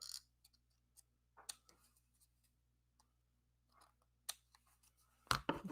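Scissors snip nibs into a paper pheasant topper for a card, a series of sparse, crisp little cuts close by in a quiet room, ending with a louder burst of handling.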